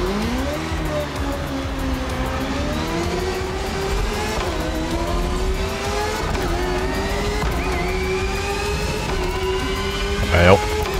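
A race car engine roars in The Crew Motorfest motorsports racing game, loud and close for the whole stretch, its pitch climbing repeatedly through gear shifts with tire squeal underneath and a brief sharp burst near the end.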